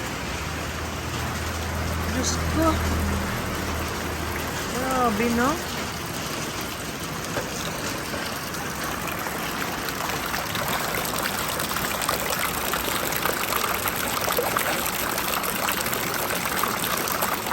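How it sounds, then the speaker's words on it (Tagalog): Heavy rain from Typhoon Odette in Bohol, Philippines, pours steadily in a loud, continuous roar, with people exclaiming briefly over it near the start. "Lumakas ang ulan."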